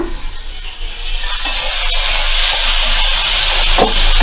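Spices stirred with turmeric and salt in a hot pan, giving a steady close sizzling hiss with occasional scraping strokes of the spoon running throughout.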